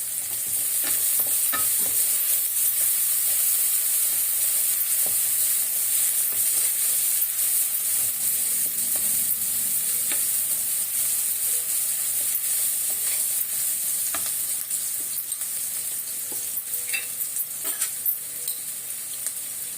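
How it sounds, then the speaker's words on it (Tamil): Onions sautéing in a pan as they are stirred, with a constant close sizzle and intermittent scraping and tapping of a utensil against the pan, no talking. "வெங்காயம் வதங்கிட்டங்க, கொஞ்சம் உப்பு போட்டுருவேன்."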